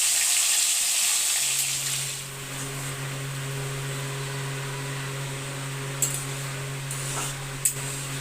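Whole spices, chopped tomato and green chili fry in hot oil in a pan, a continuous close sizzle with a low steady hum underneath and a couple of small clicks near the end.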